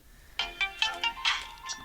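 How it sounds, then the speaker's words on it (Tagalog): A cellphone ringtone plays a short run of bright electronic tones in a quick, uneven melodic pattern, close and clear, with no talk over it. "Agun-unit ta cellphone mo."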